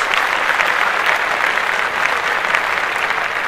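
Steady, dense applause from a group, loud and continuous with no pauses, bright hissy clapping filling the whole span.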